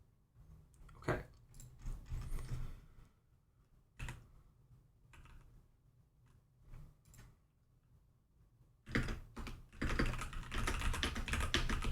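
Fingers type on a computer keyboard while working on coding puzzles, producing irregular bursts of light clicking with pauses between them, then a faster, denser flurry of keystrokes near the end, close and fairly quiet.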